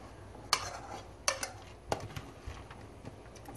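Cooked zucchini dropped into a bowl of purple rice and cucumber, with a few distinct clinks and clatters of utensils against the bowl at uneven intervals, close and moderately quiet.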